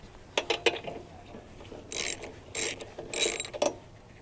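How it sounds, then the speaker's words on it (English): Ratchet unscrewing a lawn mower spark plug, heard close up as several short bursts of rapid metallic clicking separated by quiet pauses, with a few sharp taps early on. "You just want to pull that off and then we'll screw it out here."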